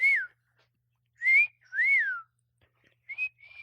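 A person whistles a short tune in clear, close bursts: three rising-and-falling notes, a pause, then two quick higher notes, with silence between them and no talk.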